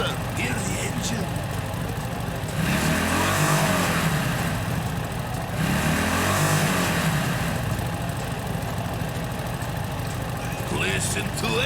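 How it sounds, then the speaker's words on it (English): A stolen collector motorcycle's engine runs loud and close throughout, swelling in two strong revving surges around the middle before settling back to a steady rumble. "Listen to engine!"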